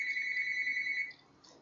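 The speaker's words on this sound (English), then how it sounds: "the phone is ringing in the background" A telephone rings in the background with a single sustained electronic trill that stops partway through, followed by quiet room tone, faint and distant, no voices.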